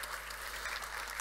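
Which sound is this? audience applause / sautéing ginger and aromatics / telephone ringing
audience applause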